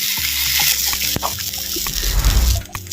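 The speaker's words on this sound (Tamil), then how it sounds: "அப்படியே புளி சாரை அது சேர்த்து" Tamarind extract is poured into a pot of rasam, a splashing gush of liquid with patters and trickles that grows heavier toward the end, heard up close.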